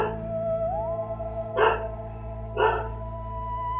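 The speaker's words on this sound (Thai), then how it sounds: "เสียงหมาเห่าอยู่ทางนอกพี่น้อง" Two sharp dog barks sound outside, spaced about a second apart, over a steady background hum.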